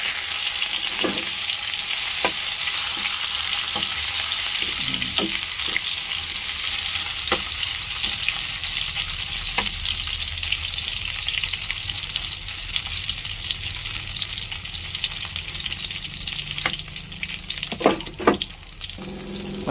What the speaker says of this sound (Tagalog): Tapos po, magpiprito tayo ng Japanese sausage